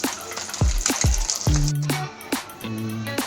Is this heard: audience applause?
no